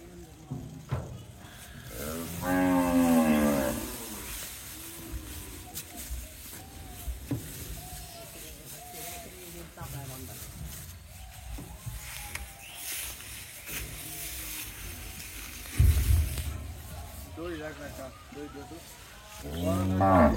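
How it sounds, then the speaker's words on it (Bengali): Cattle moo loudly a few times, one long low call early and another later, amid background chatter and farmyard noise as they are tethered. "ওই শামিম বড় গরুর মাথা ওইদিকে বান্ধা দিও"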